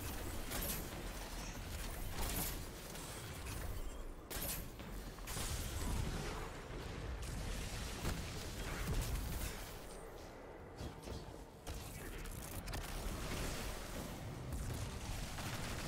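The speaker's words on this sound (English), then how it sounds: "So we're going to shoot the boss until the barrier spawns." Gunfire against a boss in the Destiny 2 video game, heard as dense bursts of shots and booms under a busy clattering mix of game sounds, fairly quiet overall and ongoing for the whole stretch without talk.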